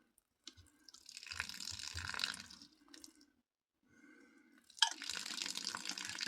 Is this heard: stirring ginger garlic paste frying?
no